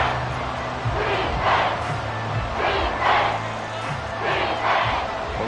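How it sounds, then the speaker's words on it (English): A loud, roaring crowd fills the space with rising and falling waves of cheering and shouting, sustained throughout without a clear single voice. "this crowd making it hard to hear"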